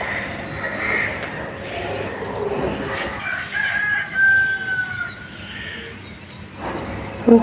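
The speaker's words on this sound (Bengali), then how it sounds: "ঢাকায় বসে মোরগের ডাক শুনবো" A rooster crows at dawn from a rooftop in Dhaka, heard at a moderate distance over a steady bed of background noise, with a brief closer sound near the end.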